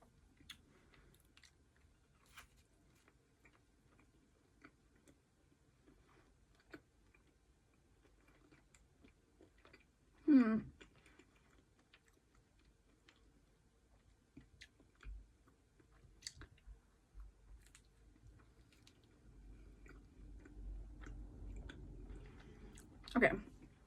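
Chuck E. Cheese pizza bought at a grocery store being chewed, with quiet sporadic mouth clicks and a louder crunchy bite partway through, then more steady munching toward the end.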